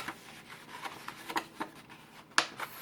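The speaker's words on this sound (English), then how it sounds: "Again, you want to make sure you burnish this well." Burnishing a folded paper hinge for a Prima Havana interactive mini album: soft, close scraping rubs come in short irregular strokes, with a few sharper scuffs and no talking.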